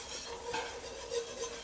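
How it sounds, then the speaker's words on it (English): A spoon stirs flour into broccoli cheddar soup in a pot with fried bacon, making brief scraping and sloshing sounds over a soft sizzle. "And you want to stir it so that you don't get clumps"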